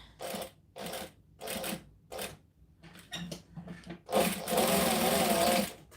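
A sewing machine stitches the sides of a fabric strap connector in short repeated bursts, then one longer continuous run, close and clear.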